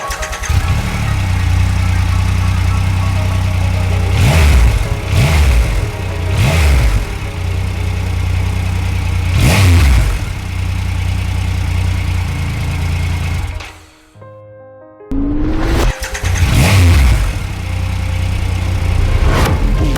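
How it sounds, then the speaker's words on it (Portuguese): A Triumph motorcycle engine idles loudly and blips through several sharp revs, falls silent briefly, then fires up again and keeps running close by. "a gente usou o próprio som do motor da moto para fazer um Sound Effects da moto ligando"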